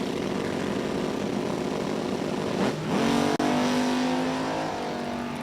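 Top dragster race cars launch during drag racing qualifying at National Trail Raceway: a loud, steady engine roar fills the clip, with a sharp rising pitch sweep near the middle as a car accelerates away, followed by a brief abrupt cutoff.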